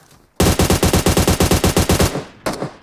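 Automatic rifle fire in the PUBG Mobile video game on the Vikendi snow map: a fast, loud burst of about twenty evenly spaced shots lasting under two seconds, then a single trailing shot after a brief gap.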